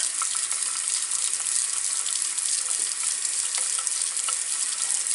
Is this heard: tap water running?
yes